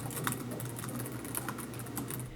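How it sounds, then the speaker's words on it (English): Fast, clacky typing on the tactile keyboard of a 2018 Huawei Matebook X Pro laptop: a steady run of crisp, close key clicks over a faint background hum, with no voices. "one part where this laptop absolutely shines is its keyboard. It's extremely tactile, really clacky"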